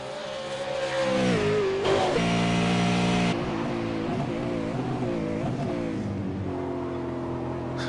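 V8 touring car engine in a racing game at Oulton Park, revving hard and accelerating away through gear changes, loud and steady with a pitch that climbs and drops, no talk over it.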